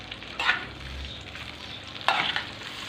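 Fried potatoes with onion being stirred in a pan, two distinct scraping stirs over a low continuous sizzle, close and fairly loud, with no voices.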